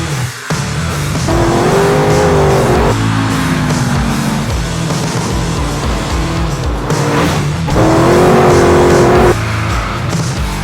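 A car engine revs hard and loud during a land speed record run, climbing in pitch through the gears with a steady roar, then easing off before another rising rev.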